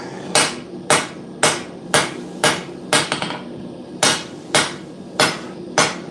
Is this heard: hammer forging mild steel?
yes